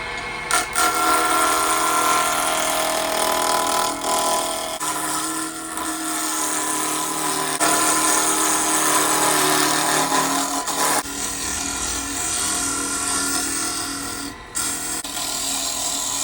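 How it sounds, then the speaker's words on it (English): Small rotary tool bit rounding off a wooden gear shift knob, a steady high-pitched whine that runs nearly continuously with brief dips, close and loud with no talking. "once I start to round it off, I like to round it with this little circle bit here"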